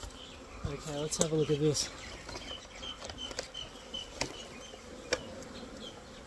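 Honey bees from a caught swarm hum steadily inside an opened eight-frame hive box, with a continuous low buzz and a few brief louder passes near the start, under a man's brief speech.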